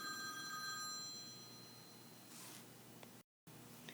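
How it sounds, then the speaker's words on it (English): A telephone bell rings faintly at the start and trails off into quiet room noise, followed by a brief rustle and a sudden cut to silence. "Now the phone rang and I lost my concentration"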